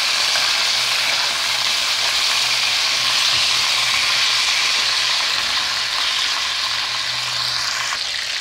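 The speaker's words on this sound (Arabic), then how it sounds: "ومن طون نحمرو نقلبو الدجاج تاعنا باش يحمرنا بيان كوم الفو" Chicken pieces fry in hot oil in a pan for a batata coucha dish, a steady, close, loud sizzle that holds constant throughout with no talking.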